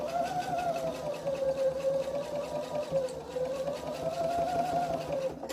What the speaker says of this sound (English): I'm just going to sew down this side.